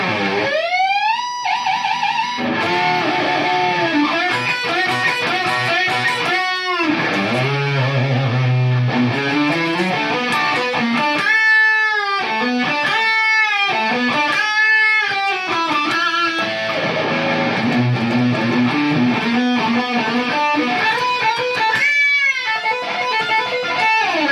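A distorted electric guitar plays a solo with bent, sustained notes and fast runs, loud and continuous throughout.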